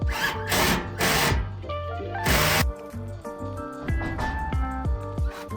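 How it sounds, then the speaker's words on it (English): A power drill whirs in several short loud bursts, then gives way to clicking and clanking metal sounds as the bolts of a Jeep Wrangler trunk rack are driven. "use a drill to fasten all the nuts and bolts"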